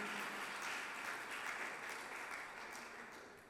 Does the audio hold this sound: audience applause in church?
yes